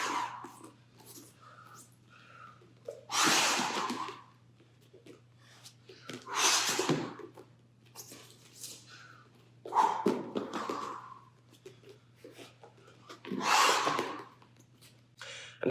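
Heavy breaths are pushed out during repeated BJJ forward rolls on a mat, four strong exhalations spaced a few seconds apart over a low steady hum, with soft shuffling between them.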